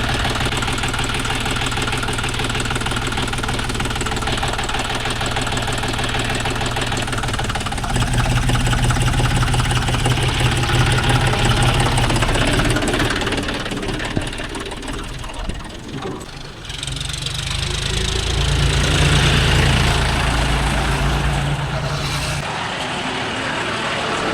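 A John Deere 5105 40 hp 4WD tractor engine running loud and close, a steady diesel drone and knock that deepens as it revs up midway, dips briefly, then settles again.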